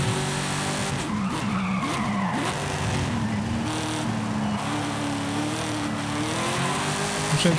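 Tires skid and squeal steadily on a Mazda RX-7 Spirit in Forza Horizon 5, loud and continuous over a revving engine whose pitch wavers through the slide, with no talk.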